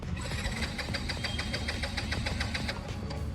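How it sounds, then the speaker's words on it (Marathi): A Yamaha MT-15 motorcycle's starter cranks repeatedly without the engine catching, making a rapid, even chugging pulse for nearly three seconds before it stops. "गाडी चालू होत नाहीये."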